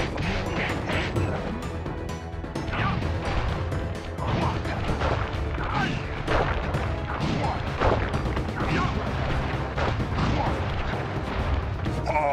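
Firework attack explosions from the PS3 video game Sly Cooper and the Thievius Raccoonus: dense, continuous crashes, bangs and booms that stay loud without pause, layered over busy game sounds.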